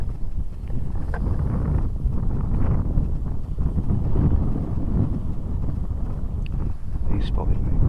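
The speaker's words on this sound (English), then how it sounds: "I got the wind in my face" Steady wind roars across the microphone on the Cornwall coast during an air rifle rabbit hunt, a continuous low buffeting rumble with brief gusts, close and loud.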